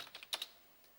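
A few quick, faint computer keyboard key presses click in close succession in a quiet room, then fade into low background hiss.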